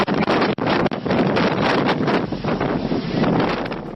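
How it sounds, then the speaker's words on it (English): Intense wind strong enough to topple trees roars in a loud, steady rush with heavy buffeting against the microphone and brief dips, no voices heard. "under the intense wind"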